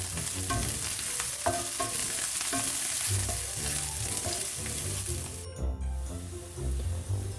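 Green chillies, curry leaves and onion sautéing in a pan for beetroot pachadi, a steady sizzle with repeated clinks and scrapes of a spoon stirring, briefly cut near the end.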